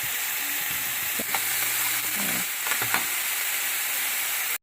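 Garlic and onion sautéing in a pan for a vegan keto dish, a steady close sizzle and hiss with a few brief stirring clinks and scrapes, no talking.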